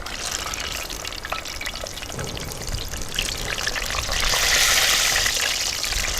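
A batch of banana bondas bubbles and sizzles in hot oil, a continuous close frothy hiss that swells louder toward the end, with no speech.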